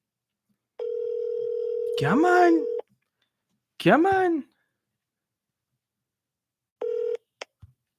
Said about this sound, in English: let's see if we can get the person on the phone